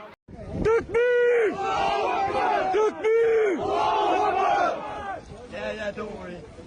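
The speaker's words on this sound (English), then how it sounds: "This crowd of people are calling themselves the Muslim Defence League, and they've been shouting" A crowd of protesters at a street demonstration during riots shouts in loud rising chants, voices surging together in repeated bursts with brief pauses between cries.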